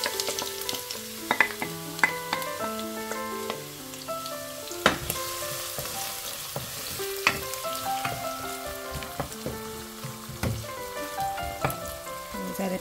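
Oil heats and sizzles and crackles in a pot for a Persian plum and spinach stew, with scattered pops and spits over a steady frying hiss and occasional clinks, no talking.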